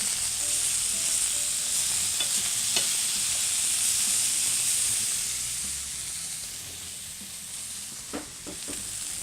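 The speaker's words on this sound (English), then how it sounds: "Now we're going to sear the second side for another minute or 2 to get a caramelization." Steak sears in a stainless steel skillet, giving a loud, steady, close sizzle and hiss throughout, with a few light taps near the end and no talking.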